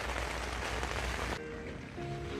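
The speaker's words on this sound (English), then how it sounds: "rain still hasn't stopped yet" Steady rain falls as a broad, even hiss that drops to a softer patter about halfway through, with faint tonal hum underneath.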